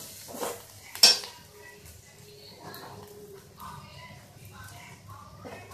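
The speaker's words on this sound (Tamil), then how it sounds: "இப்போ நம்ம காய் ஆட் பண்ணிக்கலாம்." Beans and carrot are tipped into a pan of sautéed onions for vegetable paniyaram, with a clatter of a spoon against the pan, light scraping and stirring, and a faint sizzle underneath.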